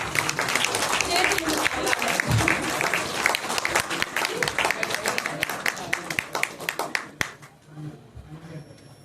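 An audience at the Pudami movie preview in Ravindra Bharathi hall bursts into loud, dense applause that carries on for several seconds before thinning out, with voices mixed in.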